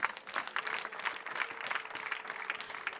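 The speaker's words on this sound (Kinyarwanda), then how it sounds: "Mukomere Imana amashyi menshi cyane" A church congregation applauding during a prayer service, a short, fairly faint spell of steady clapping from a crowd, with little talk.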